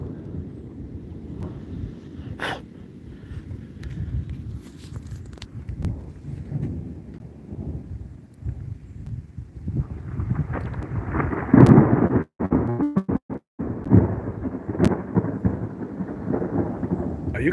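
Thunder rumbles through a stormy sky, a low rolling roar that swells midway into loud, sharp cracks and dropouts, with wind buffeting the microphone and rain steady underneath.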